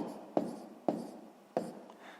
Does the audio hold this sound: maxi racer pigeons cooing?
no